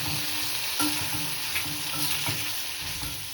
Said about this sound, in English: Again, let it fry for a minute.